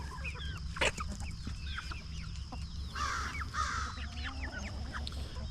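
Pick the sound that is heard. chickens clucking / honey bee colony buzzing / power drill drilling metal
chickens clucking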